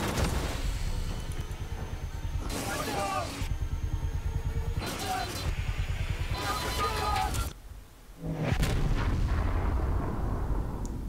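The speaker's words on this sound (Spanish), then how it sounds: "¿Y esos tiros qué está pasando?" Gunfire from the tactical shooter game Ghost Recon Breakpoint comes in repeated heavy bursts with booming shots, separated by short pauses, with a voice speaking over parts of it.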